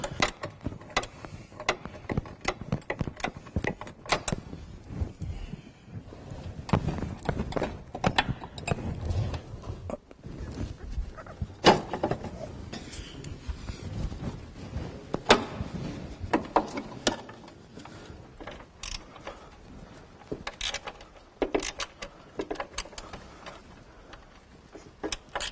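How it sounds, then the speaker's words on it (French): A small ratchet fitted with a Torx T25 bit unscrews a screw on a Renault Scénic dCi during a fuel filter change, giving close, irregular clicking and metallic ticks over roughly twenty-five seconds. "avec un petit cliquet et un embout de clé de Torx en T25, nous allons dévisser la vis"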